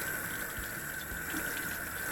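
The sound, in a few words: hot water running from a sink tap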